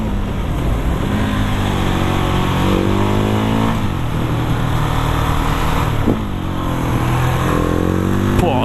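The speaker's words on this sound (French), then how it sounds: "Après, il faut aimer hein, les bruits de mono." A Husqvarna 701 supermoto's single-cylinder engine revs steadily, its pitch climbing and dropping through repeated throttle changes. It stays loud and close throughout.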